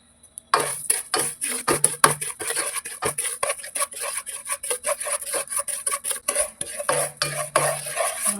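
Sugar and ghee are stirred in a pan to caramelize, producing a close, continuous rapid scraping and rasping of a spoon against the metal base, steady rhythmic strokes that persist without pause.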